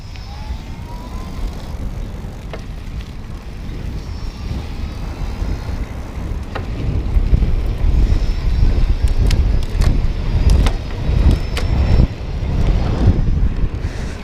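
Oyama CX E8D electric bike ridden at speed near its 20 mph maximum on big tires, with steady wind rush and road rumble that grows louder partway through.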